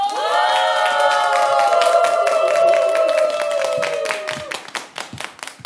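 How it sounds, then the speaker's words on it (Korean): Studio audience clapping to welcome a trot singer onto a Korean senior TV music show, rhythmic claps under a sustained musical chord that fades, leaving the clapping to trail off. "힘찬 박수로 맞이 주세요."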